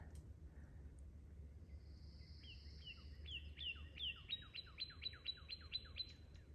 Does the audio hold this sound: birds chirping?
yes